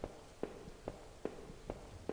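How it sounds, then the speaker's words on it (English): In-game footsteps across a squeaky floor in a horror video game, about six evenly spaced creaking steps at a steady walking pace, fairly soft and alone with no talk. "Squeaky floor."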